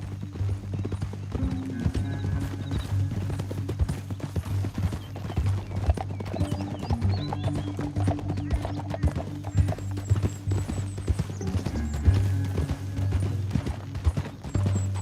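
Horses' hooves clip-clop steadily in Red Dead Redemption 2, a continuous rhythmic clatter of several mounts riding together over a low background hum.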